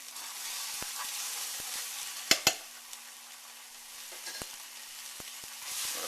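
Garlic sizzles and fries in a pan for Thai red curry, giving a steady close hiss with a few sharp clicks of a utensil against the pan.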